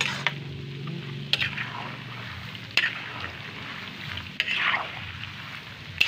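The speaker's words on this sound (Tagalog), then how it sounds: "Halo ka lang ng halo guys para magpantay yung pagkaluto." Peanut butter mixture stirred in a pan on the stove: a low continuous sizzle with soft scraping spoon strokes and a few sharp knocks against the pan.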